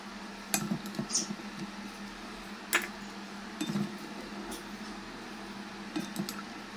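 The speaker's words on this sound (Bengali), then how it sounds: "এবার ঢাকাটাকে আলগা করে মাটনটাকে আমি একটা বাটিতে ঢেলে নেব।" Mutton kosa cooked in hand-mixed spices is served from a pot into a bowl: a handful of sharp metallic clinks and soft scraping knocks spaced a second or two apart, close and fairly quiet, with no talk.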